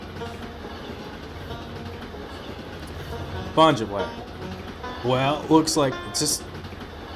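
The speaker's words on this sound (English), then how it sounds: "You hear the train, but oh, there it is." A train rolling on rails in a video game, a steady low rumble and clatter running throughout, with people talking over it partway through.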